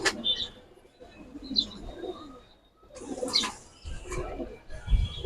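Giribaz pigeons coo in a loft, their soft throaty calls rising and falling close by. Shuffling and light chirps sound around them, with a few low thumps near the end.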